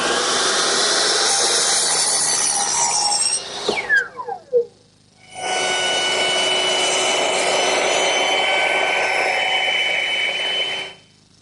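A handsaw trims wood in a workshop, with long steady rasping strokes, a brief pause, then another extended bout of close, loud sawing.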